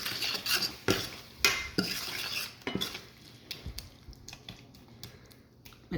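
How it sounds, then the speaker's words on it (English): A spoon stirs masala spices and tomatoes in a pan for aaloo capsicum, giving repeated scraping clinks against the metal with a soft cooking hiss underneath, close and moderately loud. "Put all the masalas. You just mix them nicely and let it cook for a little bit."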